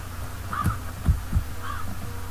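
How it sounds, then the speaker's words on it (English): Crows cawing in the ZombI video game, two short harsh calls spaced about a second apart over a low throbbing ambient hum, no talking. "Yeah, goodbye, birds."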